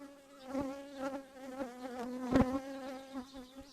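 Close, droning buzz of honeybees around a hive frame, the pitch wavering as insects fly near, with one sharp louder pass in the middle.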